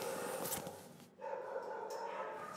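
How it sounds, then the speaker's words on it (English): Puppies at an animal shelter give excited, overlapping barks and yips that carry on almost without a break, fairly loud with a busy room behind them. "piles of puppies clamored for the attention of would-be owners"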